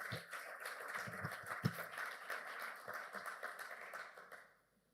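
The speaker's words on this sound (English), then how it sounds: "big round of applause for all of them" Applause from an audience at an international conference on technological innovation and investment: a fairly distant, even patter of many hands clapping for several seconds before fading out at the end.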